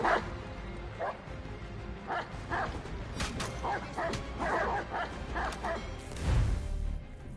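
A dog in Assassin's Creed III Remastered barks repeatedly in short bursts, close by, among creaking and mechanical game noises, with a brief voice in the background.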